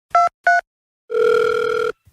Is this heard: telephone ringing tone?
yes